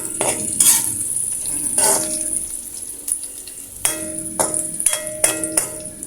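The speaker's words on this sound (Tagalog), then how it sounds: "Igisa lang natin yung ating sibuyas at saka bawang." Onion and garlic sautéing in a pan, with a soft sizzle beneath repeated sharp scrapes and clinks of a spatula stirring against the metal at an uneven rhythm.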